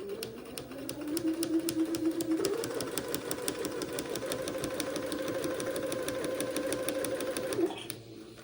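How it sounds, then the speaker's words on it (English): Close up, a sewing machine sews a long seam on an Eton suit, its motor humming with a quick, even ticking of the needle that rises in pitch after a couple of seconds and stops near the end. "this is going to take me a minute to get this seam completely sewn"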